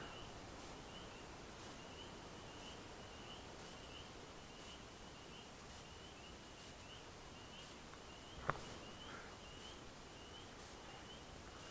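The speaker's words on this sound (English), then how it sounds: "you can hear the tree frogs singing" A quiet night ambience of tree frogs, steady high-pitched trilling pulsing repeatedly, with one brief sharp click partway through, near Mina Sauk Falls.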